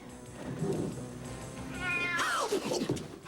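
A cat meows around the middle of the clip, a short rising-then-falling cry heard fairly close over a murmuring indoor background, set in a 1987 television soap opera scene.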